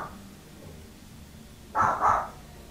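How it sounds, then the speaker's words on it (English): Two sharp, loud dog barks in quick succession, aimed at ferrets, rising out of a quiet room near the end. "That's my dog barking at the ferrets."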